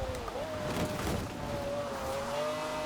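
A McLaren racing in Forza Horizon 4, its engine holding a steady high whine that rises and dips as it shifts, with a rumbling road and tire noise underneath and no talk.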